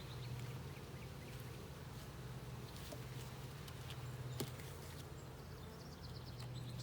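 Honey bees from a swarm hive buzz in a low, continuous drone with faint higher whines layered over it, steady and fairly quiet, no talking.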